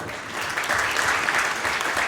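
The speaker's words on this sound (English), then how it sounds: "give yourselves a round of applause" Masterclass audience clapping for themselves, a short burst of dense applause swelling quickly and holding steady.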